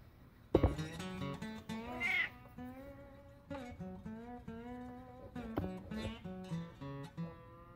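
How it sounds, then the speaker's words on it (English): A cat hanging around a garage during a rear main seal repair on a 1992 Dodge D250 First Gen Cummins truck meows repeatedly and close by, a string of drawn-out, whiny calls with short pauses between them. "Oh, demon cat."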